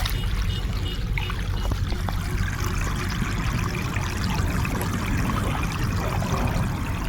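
Water pours and streams steadily through a flooded rice paddy field in Jharkhand, a loud, unbroken rushing flow with no voices.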